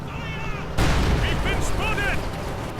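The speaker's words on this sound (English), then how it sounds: "Artillery flying in as well." Artillery fire in the real-time strategy game Company of Heroes 2, a sudden heavy boom followed by rumbling impacts and crackling battle noise, loud and close, with brief chirping game effects on top.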